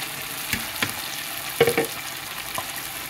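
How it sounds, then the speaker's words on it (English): A pot of Nigerian brown beans stews in blended tomato, chili and onion sauce, bubbling and popping with scattered soft pops and stirring clicks over a low steady simmer. "So now it's cooking, it's popping up."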